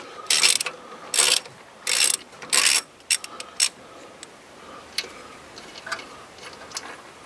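A ratchet removes bolts from the steering box of a 1991 GMC Jimmy, four loud clicking bursts in quick succession, followed by scattered lighter metallic ticks and clinks up close.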